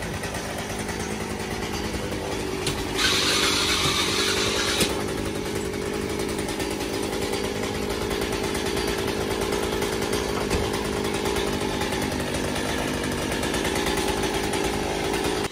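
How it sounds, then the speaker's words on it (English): A chainsaw held at full throttle during backyard tree work drones continuously and loudly at close range, with a brief brighter, harsher burst early on. No one speaks. "this man has a chainsaw that is fully on, going full throttle attached to his hip"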